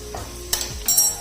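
Spices, Chinese salt, chicken powder and black pepper being stirred in a pan over a low flame for chicken macaroni, with a soft sizzle and a few scraping strokes, fairly close and quiet.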